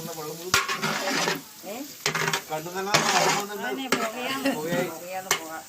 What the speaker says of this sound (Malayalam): നെയ്ച്ചോറുണ്ടാക്കാനുള്ള ഉള്ളി വാട്ടിക്കൊണ്ടിരിക്കുന്നു